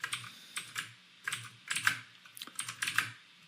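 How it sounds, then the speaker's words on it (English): Typing on a computer keyboard, including pressing Control S to save, a close run of quiet key clicks in irregular bursts with short pauses between them. "I'm just hitting save on the keyboard as well, Control S."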